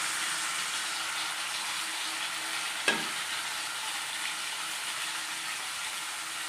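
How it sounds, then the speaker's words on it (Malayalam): Onion, tomato and green chilli frying in hot coconut oil for a Kerala-style dish, a steady close sizzle with one sharp clink of a utensil partway through, no voices. "നമുക്ക് സവാളയും തക്കാളിയും പച്ചമുളകൊക്കെ ഇട്ട് കൊടുക്കാം."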